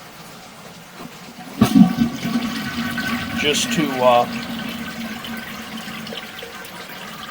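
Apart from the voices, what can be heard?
toilet flushing, debris in sewer pipe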